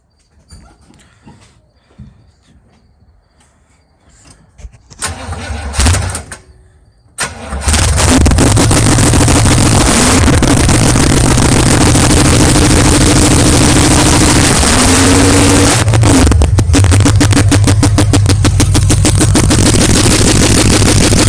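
A carbureted Chevrolet K10 pickup truck engine cranks, catches and starts, then settles into a loud, sustained rumble with rising revs; quiet background sounds precede the start.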